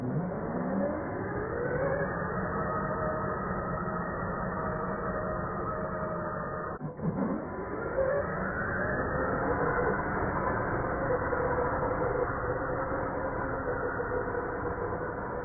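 A Losi 1/10 Baja Rey 2.0 RC truck running on a 3S battery, its electric motor whining and revving steadily with rising and falling pitch, close and continuous, with a brief dip midway before it speeds up again.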